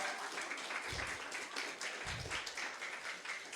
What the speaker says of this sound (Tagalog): palakpak po para sa Lord